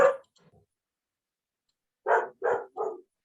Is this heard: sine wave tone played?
no